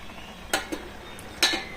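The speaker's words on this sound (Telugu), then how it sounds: "అన్నీ వేసాక ఇలా ఒకసారి కలబెట్టుకోవాలి" A spoon stirring masala tea in a metal pot, with a few sharp clinks against the pot's side, close and clear, with no talk.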